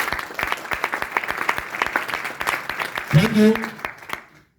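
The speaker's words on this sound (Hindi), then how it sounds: "एक बार और शानदार ताली होनी चाहिए" Audience applause for Mr. Satish at a business gathering, a steady patter of clapping that fills the hall for a few seconds. Someone speaks briefly over it, and the clapping then fades out.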